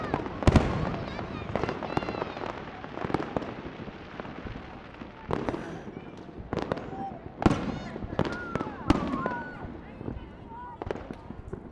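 Fireworks burst at night in a rapid, irregular series of sharp bangs and crackles, some near and loud, others farther off, with whistling streaks and people talking in between.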